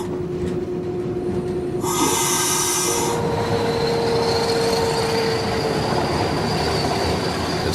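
A Portuguese Railways CP class 1800 diesel locomotive train rolls past close by, loud and continuous, with rumbling wheels, a high squeal, and a bright metallic screech partway through.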